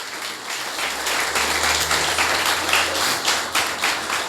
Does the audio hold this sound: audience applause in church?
yes